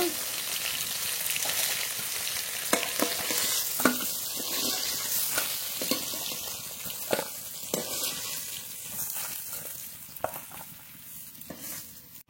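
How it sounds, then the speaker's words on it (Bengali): Large lata fish crackling and spitting in hot oil, a continuous sizzle punctuated by sharp pops and clinks of a utensil, fairly close. "মাছ খুব ভালো করে ভেজে নিয়েছি,"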